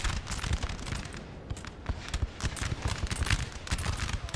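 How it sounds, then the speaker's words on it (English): Dense crackling musket volleys from massed line infantry, including reserve grenadiers, in a historical battle video game, loud and continuous with overlapping shots throughout. "There you go, off they fire."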